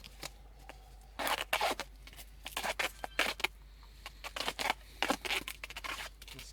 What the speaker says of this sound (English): I'm gonna wrap it in duct tape because this will help it pressurize and therefore create a bigger boom